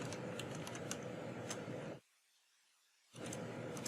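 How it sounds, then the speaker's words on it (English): Fast clattery typing on a new computer keyboard, dense close key clicks that stop abruptly into about a second of silence before resuming at the same pace. "Actually, my typing sucks, but the new keyboard makes it worse."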